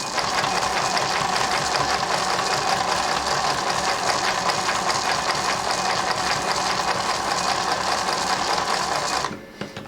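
A Singer 20U33 industrial sewing machine stitches continuously with a steady, fast mechanical whir and rapid needle clatter. It runs loud and close for most of the span, then stops abruptly near the end.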